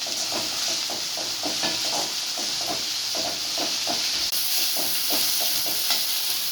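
Onion and ginger-garlic paste frying in a pan for potato masala, a steady close sizzle and hiss with rhythmic scraping stirs repeating throughout, with no voices.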